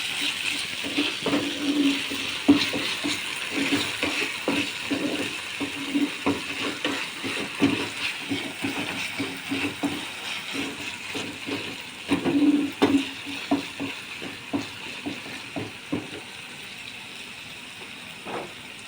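Ginger spice paste fries in a pan for beetroot momo, a soft continuous sizzle broken by repeated scraping stirs at an uneven rhythm, close and moderate in level.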